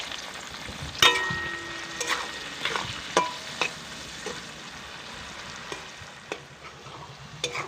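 Yardlong beans frying in a pan with turmeric and salt give a constant close sizzle. Intermittent scraping clicks of a spatula stirring break through it every second or so, with no talking.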